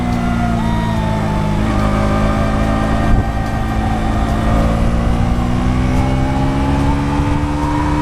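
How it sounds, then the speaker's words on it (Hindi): A motorbike cruises steadily on an open road past a mountain base in Jharkhand, its engine droning loud and continuous with a steady low hum and slight pitch shifts throughout, with no talking. "हमारी बाइक स्टेडीली चल रही है, परफॉर्मेंस बाइक की ठीक है"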